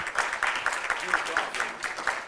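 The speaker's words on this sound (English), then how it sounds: "let's give Mr. White and Mrs. Mickle a warm round of applause." A lecture audience claps a warm round of applause, with brisk, evenly spaced claps over about two seconds under a low murmur of voices.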